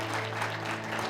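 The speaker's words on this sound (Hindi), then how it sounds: "प्रभु के लिए ताली बजाएंगे" A church congregation claps during a Hindi sermon, steady dense applause filling the room throughout.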